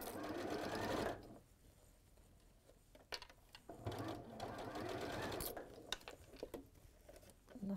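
A sewing machine stitches a fabric cat softie in close, fast whirring runs that stop and restart, with short pauses between bursts.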